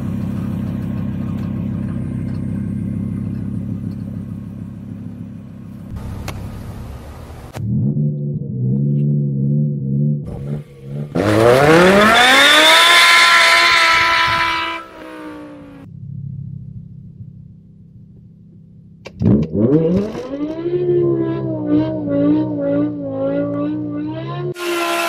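A BMW E60 M5 running its factory launch control, heard up close. The engine idles, then revs hard in rising sweeps with sharp pitch climbs, settles, and surges again, with loud, strained acceleration passages and no talking.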